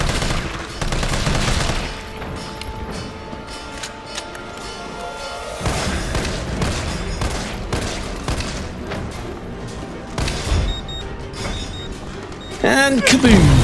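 Assault rifle gunfire in Resident Evil 3 Remake while playing as Carlos in the hospital section, repeated rapid shots amid game music and effects, with a voice talking over much of it and a loud crash at the end.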